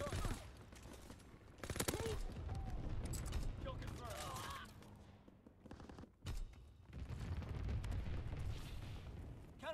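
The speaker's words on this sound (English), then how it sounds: "Anti-aircraft burst has commenced." Anti-aircraft guns pound away in Call of Duty: WWII, a dense, loud barrage of bursts and booms with rapid repeated firing through most of the stretch, a brief lull near the middle, then heavy fire again.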